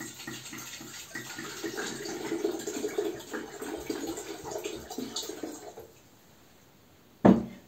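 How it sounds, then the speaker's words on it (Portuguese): Water pours into a pot on a stove or an electric kettle to boil a litre, a continuous rushing and burbling stream for about six seconds that cuts off, followed by a sharp knock near the end. "Coloca 1 litro de água para ferver no seu fogão ou na sua chaleira elétrica."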